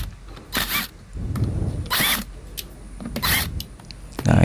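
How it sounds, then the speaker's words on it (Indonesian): Power tool bursts from work on the clutch housing bolts of a Yamaha Jupiter Z motorcycle: three short, loud whirring spells separated by quieter gaps and small clanks, close up. "kita coba buka baut rumah koplingnya"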